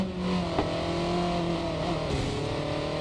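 A racing car's engine in the mobile racing game Racing Master: a continuous, loud, steady engine drone with a faint click near the start and no voices.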